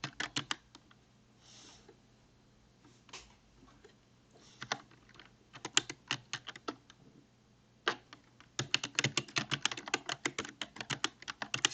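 Computer keyboard keys tapped to type a layer name in GIMP, irregular bursts of close, crisp clicks with short pauses, ending in a quick flurry of keystrokes.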